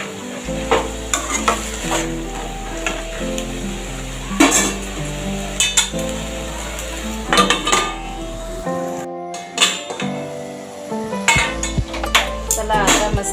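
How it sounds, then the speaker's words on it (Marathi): Vegetables for kandyachi pat are stirred and sautéed in a pan, with repeated scraping and clinking of a utensil against the pan over a low sizzle, close and continuous with brief pauses. "परत एकदा तिला चांगली परतवून घ्यायची वर खाली करून, म्हणजे भाजी व्यवस्थित शिजते।"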